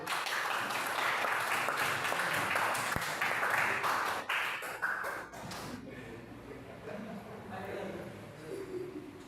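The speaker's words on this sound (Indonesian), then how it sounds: "Kita beri aplaus untuk kelompok 1." A classroom of students at a vocational high school applauds group 1, a broad wash of clapping over the first five seconds that thins out and fades, with a voice talking over it.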